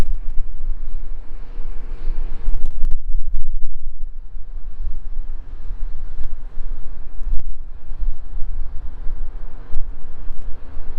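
Steady wind gusting across an open golf course, a continuous low rushing buffet on the microphone with a couple of brief knocks, no talk.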